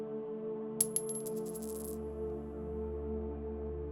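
A single tin coin drops once with a bright metallic clink and a short ringing shimmer, heard quietly over soft sustained sleep-story music.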